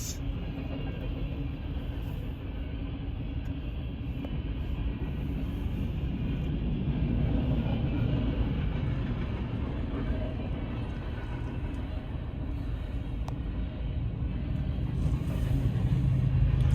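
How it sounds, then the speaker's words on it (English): A BNSF grain train with a helper locomotive on the rear rounds a curve at Benton City, Washington, giving a steady low rumble that slowly builds and stays loud throughout, with no talk. "we see a helper on the rear of the train, which is coming around the curve."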